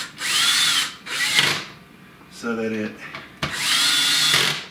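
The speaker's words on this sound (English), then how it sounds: "My power drill has an adjustable clutch" A power drill with an adjustable clutch drives screws in two loud, close whirring bursts, separated by a short spoken remark and a brief ratcheting clutch release.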